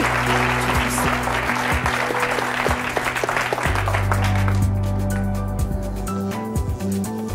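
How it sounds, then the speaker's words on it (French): A TV talk show studio audience claps steadily for departing guests, with music playing underneath and the applause thinning toward the end. "Je vous propose de les applaudir très fort."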